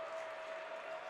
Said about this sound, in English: the crowd here at the barn is getting loud